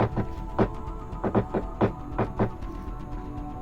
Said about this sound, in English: I'm just going to tap just a couple of times on the glass.